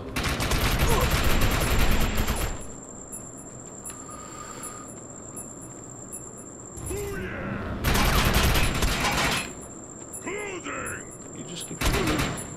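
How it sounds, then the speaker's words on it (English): Loud bursts of rapid automatic gunfire in the shooter Defiance 2050 come in three separate sustained volleys, with quieter mechanical clicks and game noises in between. "You just keep shooting."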